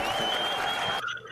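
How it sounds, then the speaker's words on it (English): Applause for the winners at an awards ceremony: a dense, steady clatter of many hands clapping, which stops abruptly near the end and leaves only faint room noise. "one more round of applause for all of our winners."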